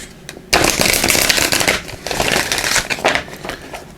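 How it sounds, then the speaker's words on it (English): Cards from a numerology guidance deck being shuffled and pulled, a dense, close riffling rustle that starts abruptly and keeps going in bursts, loud and with no talking. "we'll also pull a numerology guidance card here"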